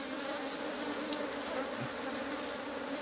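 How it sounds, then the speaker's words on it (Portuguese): A dense, steady hum of many Apis honeybees buzzing up close as they are shaken off a hive frame, continuous and loud throughout. "Vou balançar o resto das abelhas aqui, ó."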